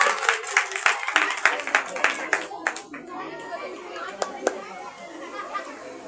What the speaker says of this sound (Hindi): बेटी के लिए जोरदार तालियां हो जाए